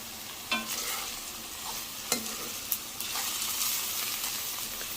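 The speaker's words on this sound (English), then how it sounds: "I have to saute a little bit." Mushrooms and onions sautéing in a pan, with a steady hissing sizzle and three sharp clinks of a utensil against the pan, near and alone.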